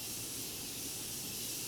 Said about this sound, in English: it just continues to spray, you know, and that's what's so cool about it, because most setting sprays are spritzers